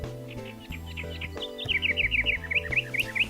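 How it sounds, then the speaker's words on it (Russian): Small birds chirp in a spring forest in an animated children's cartoon, with a rapid series of bright tweets in quick succession over a background music track. The calls grow denser toward the end. "В лесу стало гораздо больше птиц. И они рано встают и так красиво поют на разные голоса."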